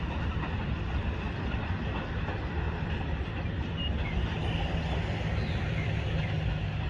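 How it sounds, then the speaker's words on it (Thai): Thai rapid train No. 135, hauled by a Hitachi 4505 locomotive, departing a station: a loud, steady rolling rumble and broadband rail noise, close by and continuous, with no talk. "ไปแล้วครับผม ขณะนี้กำลังมีขบวนรถสวนเข้ามาด้วยนะครับ"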